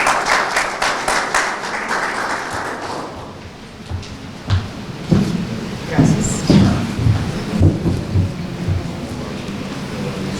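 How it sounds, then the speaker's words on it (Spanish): A conference audience welcomes a speaker with loud, dense applause for about three seconds. It then fades into room noise, and a voice begins speaking over the hall. "La recibimos con un aplauso."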